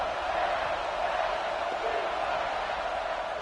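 A packed football stadium crowd at an Oklahoma vs Tennessee game roars as a steady, loud wash of noise, with a commentator talking over it.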